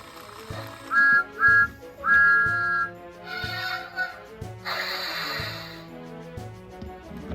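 A motorized 80th Anniversary Classic talking Thomas toy train running, with a repeated mechanical chugging rhythm, short whistle toots and brief hissing bursts, close and fairly quiet with no talking.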